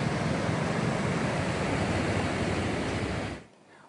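The flooded Godavari river in Nashik rushes after heavy monsoon rain, a loud, broad, continuous roar of churning water that holds steady and then drops away abruptly near the end.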